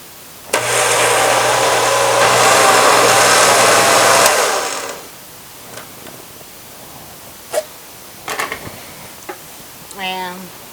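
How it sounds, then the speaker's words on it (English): A kitchen blender purees a can of tomatoes in one loud, steady whir of about four seconds, then stops, leaving quiet kitchen clatter and a few soft knocks. "Now I'm going to puree this last can."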